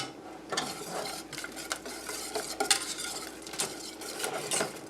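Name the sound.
stirring cheese into au gratin potatoes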